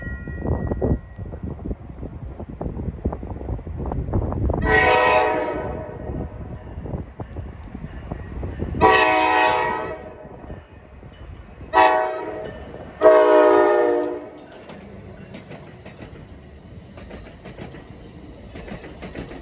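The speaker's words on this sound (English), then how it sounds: "Got a nice sounding horn on that DP." New Jersey Transit diesel train, a DP unit, sounding a series of horn blasts near Ho-Ho-Kus/Ridgewood, four loud sustained chords with pauses between them over a rumbling engine and rail noise, then the train fading.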